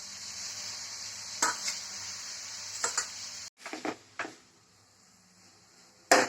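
Chow mein noodles stirred in a hot pan: a soft steady sizzle with scattered scraping and clattering spoon strokes, a short pause, then a few more stirs, no talking.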